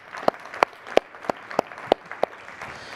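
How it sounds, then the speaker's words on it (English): Applause from a summit audience at the AI for Good event comes through as a handful of sharp, evenly spaced claps, fairly close and clear over a quiet room. "So let's just give them a little round of applause."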